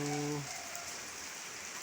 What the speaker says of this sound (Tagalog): tikatik na ulan hindi mo malaman kung kailan titigil